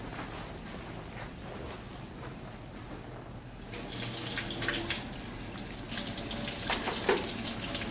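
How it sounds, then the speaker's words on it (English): Running water from a sink tap in a medication room as hands are washed, a steady close splashing that grows louder and fuller about halfway through, with no talking. "the first thing we're going to do is wash our hands."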